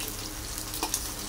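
Chili and garlic sizzle loudly in a hot pan, a dense continuous frying hiss with a faint stir or clink partway through.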